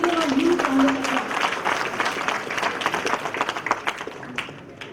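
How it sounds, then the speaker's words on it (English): Audience at a convocation keynote address breaks into applause, dense steady clapping from many hands that gradually thins toward the end, with a voice briefly audible near the start. "Please give him a huge round of applause"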